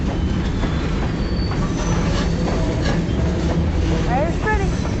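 A Kiamichi Railroad train returning from a spur grinds along with loud, continuous rumble as its brakes squeal in rising, wavering shrieks near the end.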